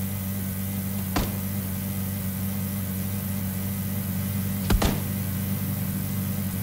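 Car engine in the PUBG video game drones steadily as the vehicle drives, a continuous low hum with two brief sharp clicks, no talking.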